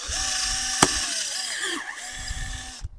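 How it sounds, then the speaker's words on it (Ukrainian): A cordless drill whirs steadily at close range driving a drill-tap bit into metal, with a sharp click partway through and the motor winding down near the end. "Беремо шурік. Пробуємо, як є, показую вам. Перше свердлимо."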